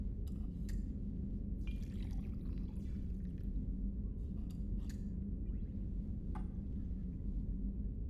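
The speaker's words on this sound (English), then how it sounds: "Pour some liqueur." Liqueur pours into a glass in the game Mass Effect 2, a soft liquid trickle with faint clinks over a steady low hum, no voices.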